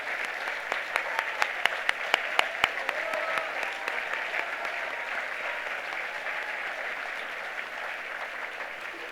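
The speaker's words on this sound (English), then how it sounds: "let's give him a big round of applause" A gala crowd gives a long round of applause for an honored guest, sharp individual claps standing out early before settling into a sustained, even wash of clapping that slowly eases.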